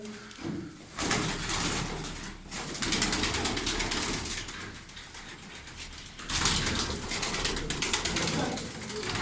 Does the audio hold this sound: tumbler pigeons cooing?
yes